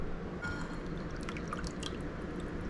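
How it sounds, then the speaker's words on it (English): Pot roast juice pours from a package into a birria broth mixture, a soft, steady trickle with faint drips close by and no voices. "I'm going to put that in with the other broth mixture we have"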